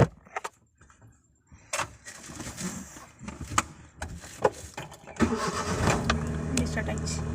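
A car engine cranks and starts after the ignition is switched on, preceded by a few clicks and knocks, then settles into a steady close idle; faint voices occasionally sound over it.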